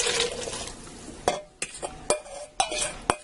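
Sizzling and stirring in a pot with several sharp clinks of a utensil against the pan, close by; diced potatoes and about two cups of water being tipped in and stirred around for minestrone soup in a pressure cooker.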